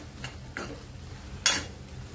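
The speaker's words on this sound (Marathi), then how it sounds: "तर छान मिक्स करून घेऊया." Spoon stirring red chili powder and chole masala into chickpeas in a pan: a few faint, brief scrapes and clinks spaced apart in a quiet kitchen.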